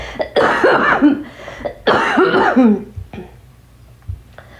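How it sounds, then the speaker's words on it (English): Two harsh, rough coughing fits close to the mic, each a cluster of hacking bursts, followed by a few quieter throat sounds and breaths. "Hopefully we can get rid of this freaking cough"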